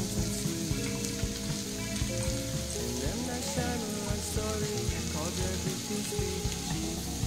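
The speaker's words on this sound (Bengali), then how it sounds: "এইবার নারকেল আর ওই পোস্তটা দিয়ে 4-5 মিনিট একটু ফ্রাই করে নেবো" Grated coconut and poppy seeds fry in a pan with chichinga, producing a loud, dense sizzle like heavy rain, with occasional stirring scrapes close by.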